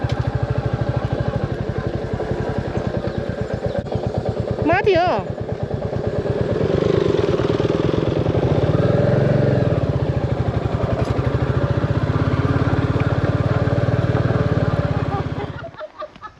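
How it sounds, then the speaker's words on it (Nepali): A rented motorcycle ridden along a route from Butwal to Palpa in Nepal, its engine giving a steady, close, continuous rumble with an even rhythm and fading near the end, while voices speak over it. "यो चाहिँ मैले लिएको बाइक हो गाइस।"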